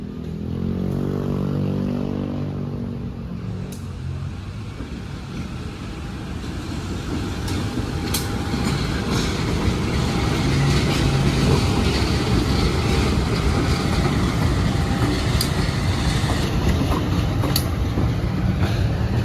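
A parcel train hauled by a CC201 locomotive passes, starting with a deep engine drone that gives way to a long, steady rumble and clatter of wagons rolling close by, growing slightly louder.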